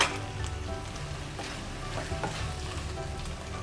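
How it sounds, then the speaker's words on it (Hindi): Masala spices frying in oil in a pan over a medium flame, a steady close sizzle with light stirring scrapes, no voices. "4 से 5 मिनट तक भूनते हैं ताकि हमारे मसाले की अच्छी तरह से खुशबू आए"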